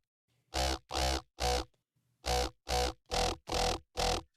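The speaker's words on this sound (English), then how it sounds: "first thing I did is a phaser because that gives it more of like a growly, vocally sound" A Serum synthesizer patch run through a phaser gives growly, vocal-like tones in a series of short, loud, punchy notes: three, then a pause, then four more in quick succession, with no voices.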